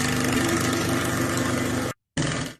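Staccato water pulsing through a sink faucet shakes the pipes and counter with a loud, jackhammer-like mechanical drone. The drone cuts out briefly near the end, resumes, then fades, with no talking.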